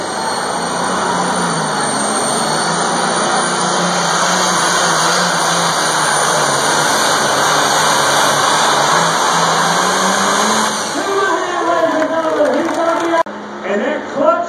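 A pulling tractor at an NTPA tractor pull at the NC State Fair roars with a loud sustained engine drone, its pitch rising and wavering toward the end, amid outdoor crowd noise.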